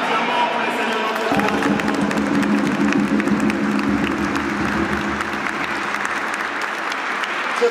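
A church congregation applauds at a Mass, steady dense clapping from a large crowd filling the whole stretch, with some cheering mixed in and no clear talk over it.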